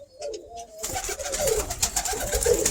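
Birmingham Roller pigeon cooing in a loft, a soft low purring coo repeated close by with a steady background hiss.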